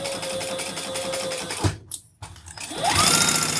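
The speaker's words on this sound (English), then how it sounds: "these sides won't be seen, so I'm going to back stitch" Sewing machine back stitching leather, a fast steady whir of needle strokes that stops briefly, then resumes with a rising hum, close and alone without talk.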